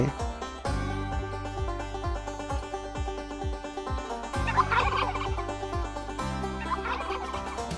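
A turkey gobbles repeatedly in the survival video game Last Day on Earth, its rapid warbling calls layered over steady game music.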